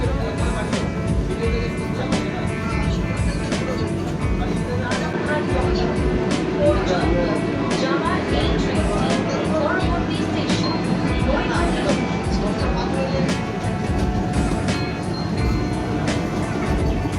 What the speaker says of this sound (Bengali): ট্রেন ছেড়ে দিল ব্যারাকপুর স্টেশন থেকে তার নির্ধারিত সময় সন্ধ্যা সাতটা বেজে পঁচিশ মিনিটে